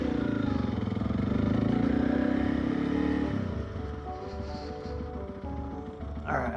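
Honda CRF300L dirt bike engine rumbling loudly while the rider brake-slides around a pole, the note dropping off as the bike slows, with a clatter near the end.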